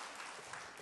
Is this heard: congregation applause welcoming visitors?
yes